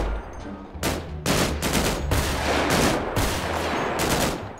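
Video-game gunfire from GTA 5 roleplay cracks in a rapid burst of loud, close shots, several in quick succession with brief gaps between.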